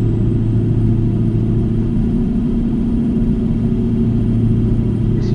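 A truck engine in American Truck Simulator drones steadily with a deep, constant rumble, climbing under throttle without letup, loud and close with no speech.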